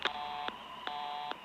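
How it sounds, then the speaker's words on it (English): Telephone dialing tones from a cartoon call to an alarm center, four short beeping tone bursts spaced evenly, clear and close with no talk over them. "Call the Grinch Alarm Center. Dial area code 519006."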